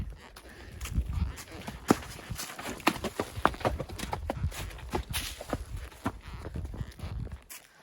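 Horse hooves step unevenly over a rocky trail on a scenic ride, close clopping and scraping on stones with irregular rhythm, a faint voice now and then.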